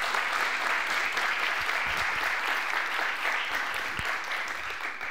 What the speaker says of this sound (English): Let's give a warm welcome to Dan Jurafsky